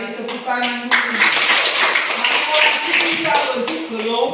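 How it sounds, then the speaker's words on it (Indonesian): Students in a classroom clap their hands together in a quick rhythmic pattern, with speech-like voices and tapping mixed throughout the short burst. "Mari tepuk tangan dulu."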